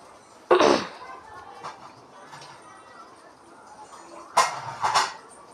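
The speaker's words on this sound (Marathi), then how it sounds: "धने पावडर छानपैकी मिक्स करून घेत आहे" Coriander powder being stirred into spices in a cooking pan, with a few sharp metallic scrapes of a spoon against the pan standing out over a quiet background.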